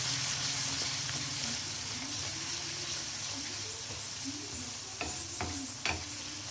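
Black chana masala with cumin powder and salt stirred in a pan over a steady, fairly quiet sizzle, with a few sharper clinks of the spoon against the pan near the end.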